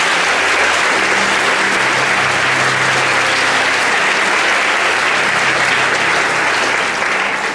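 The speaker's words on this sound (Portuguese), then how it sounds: "Dá uma salva de palmas a Jesus." A church congregation claps together in loud, dense, sustained applause that holds steady throughout and tapers slightly at the end.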